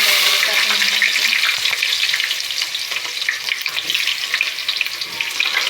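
Onion and chili frying in spiced garam masala in a pan for chicken biryani, a steady loud sizzle with light stirring throughout.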